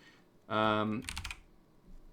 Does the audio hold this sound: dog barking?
no